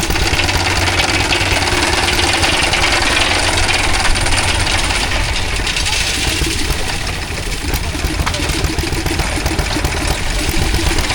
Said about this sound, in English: it looks to have been powered by a Fairbanks Morse engine in there